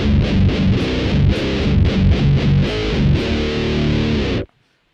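A death metal riff on a heavily distorted electric guitar with scooped mids, played as loud, chugging, palm-muted bursts with a steady rhythm. It rings dense and close, then cuts off abruptly near the end.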